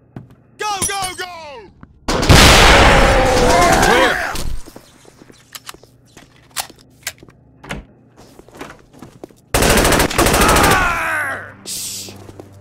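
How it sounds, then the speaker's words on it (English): In the video game SAS Secure Tomorrow, a flashbang grenade bursts with a loud roaring blast, then a second blast follows after scattered clicks and footsteps. Shouting voices are heard near the start. "Open! Flashbang!"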